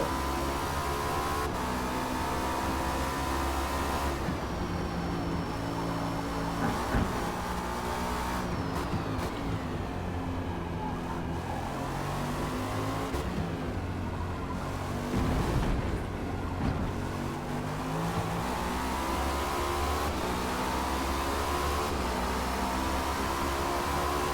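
A Cadillac V-Series.R race car in Forza Motorsport laps Homestead, its engine screaming at high revs with repeated gear-shift dips and rises and brief tyre squeal, loud and continuous without speech.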